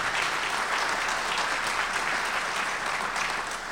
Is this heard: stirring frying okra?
no